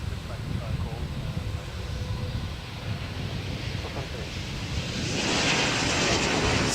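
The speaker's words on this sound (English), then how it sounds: "It's the E190. Let's see if he bounces this one. Beautiful landing there." An Embraer E190 airliner lands at Adelaide Airport, a distant engine rumble under wind noise that swells into a louder, brighter roar toward the end, with a voice talking at times.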